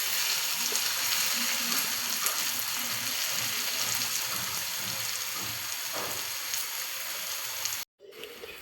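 Chopped onions fry in a large kadai with a dense, continuous sizzle and soft bubbling, close and even, cutting off abruptly near the end before resuming briefly.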